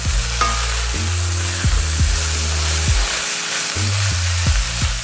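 Vegetables sizzle in a hot pan over medium heat just after being flipped, a loud, close, continuous frying hiss over a low, stuttering hum, with no talking.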